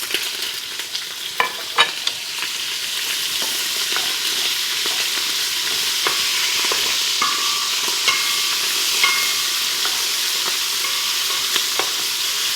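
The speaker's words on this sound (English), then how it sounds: "we'll cook this now until the andouille is browned" Andouille sausage browning in a pot for canned Louisiana red beans, a continuous bright sizzle with scattered scraping clicks of a spoon stirring, close and steady, no voices.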